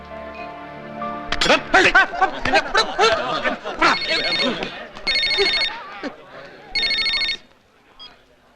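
A telephone rings in two bright electronic bursts, following a stretch of animated talking and laughter nearby.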